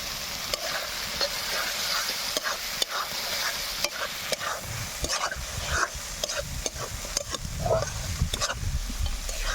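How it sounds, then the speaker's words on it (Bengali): Fish curry masala with water and chopped tomato being stirred in a pan: a loud, close sizzle under repeated scraping strokes of a spoon, with no talking. "একটু জল দিয়ে নেড়ে ছেড়ে দিয়ে দেবো টমেটো কুচি"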